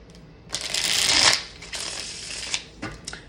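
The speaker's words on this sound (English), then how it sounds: "Let's try it again." Tarot cards riffled and shuffled by hand close up: a long riffle burst, a softer second pass, then a few short flicks and taps.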